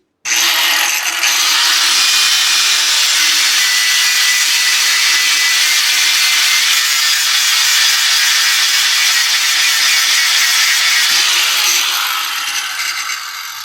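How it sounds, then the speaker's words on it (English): Power grinder taking down the end of a metal rod end, one loud, sustained high-pitched grinding whine lasting over ten seconds before tapering off, close and alone. "we're gonna grind down the end of this rod end just to make sure it has clearance"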